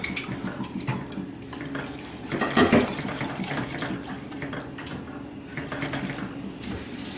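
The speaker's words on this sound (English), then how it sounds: "Just whisk that in." Whisking a slurry into pork loin gravy, with metal clinks against a pan and running-water and dish clatter mixed in, steady and close throughout.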